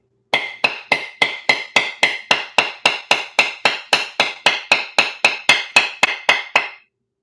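A hammer strikes a coconut shell in a steady, fast run of about twenty loud, even blows, close by, with nothing else heard.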